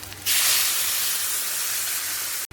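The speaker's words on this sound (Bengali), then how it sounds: "সবজিগুলো ভালো করে ভেজে নিয়েছি, নিয়ে এবার জল ঢেলে দেবো।" Water poured into a hot pan of fried drumstick pods and bitter gourd, a loud sudden hiss and sizzle that holds steady for about two seconds before cutting off sharply.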